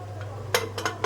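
A couple of metallic clanks and clinks as a lid is set onto a pressure cooker holding goat meat and water, short and close, over a low steady hum.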